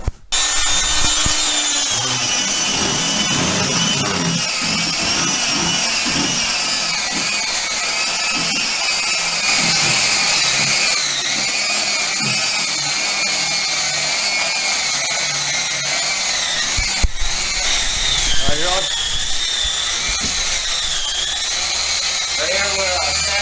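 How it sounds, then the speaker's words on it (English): A power sander works over the finish of an acrylic shower pan during a bathroom remodel, a continuous buzzing grind that runs nearly the whole time with slight shifts in pitch. "Right here we're sanding down the finish of the pan so that we're getting ready to waterproof it"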